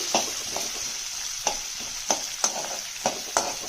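Onions frying over medium heat in a pan give a continuous sizzle, punctuated by regular scraping taps of a spatula stirring them.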